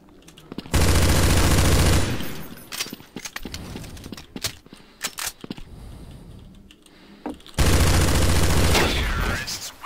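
Shotgun fire in Counter-Strike: Source, heard as two loud, dense blasts near the start and near the end. Clattering game noise, clicks and brief sounds fill the gap between them.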